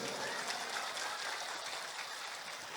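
A crowd at a religious gathering in Indonesia applauds the Banser volunteers, a steady, fairly faint wash of clapping lasting a few seconds with no break.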